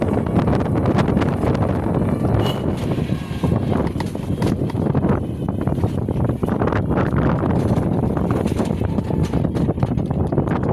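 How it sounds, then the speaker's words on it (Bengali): A strong wind sweeps through a village outdoors, buffeting the microphone with loud, continuous roaring gusts and rumble that swell and ease without a break. "এত পরিমাণে হাওয়া দিচ্ছে, কোনো কথাই বলা যাচ্ছে না"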